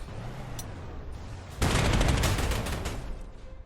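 Dense bursts of submachine-gun fire from infantry in the WWII strategy game Panzer Corps 2, an urban battle near Stalingrad in 1942, break in sharply after a quiet stretch and rattle on loudly, fading slightly toward the end.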